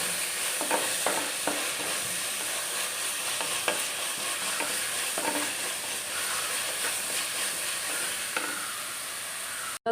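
Crab roast with onions being stirred in a large pan, a continuous loud sizzle of frying with repeated scraping and clattering stir strokes throughout.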